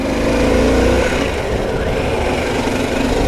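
A Harley-Davidson Pan America motorcycle engine runs loud and steady close by, holding a continuous drone as the rider shifts into third gear, with no clear break in the sound.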